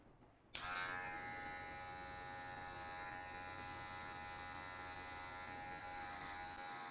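An electric hair clipper buzzes on abruptly and runs as a steady, close, high-pitched motor drone while cutting hair during a quick short men's haircut.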